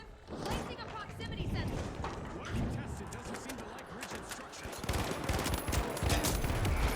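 Automated turrets fire in a match of The Finals, rapid rattling bursts close by that build in intensity toward the end, mixed with other battle noise while a player talks over them.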